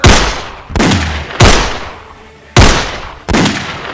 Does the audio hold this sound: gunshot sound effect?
yes